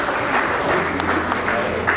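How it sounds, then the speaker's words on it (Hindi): Applause from guests at a ring ceremony, a brief burst of crowd clapping heard close, with some voices underneath. "जरा उस कोशिश के लिए एक जोरदार ताली होनी चाहिए।"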